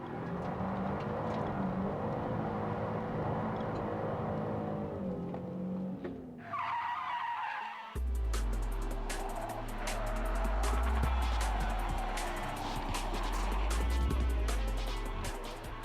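A car drifting through a right-then-left corner using a rally technique, the engine revving hard on the throttle as tires squeal and skid, loud and close, with a brief lull before a heavy low roar of acceleration.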